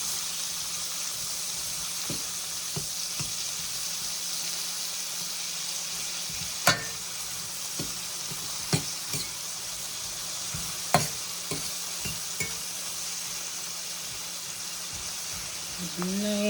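Onions and sausage fry in buttery grease in a pan, giving a steady close sizzle with occasional sharp pops and utensil clinks; a voice briefly sounds near the end.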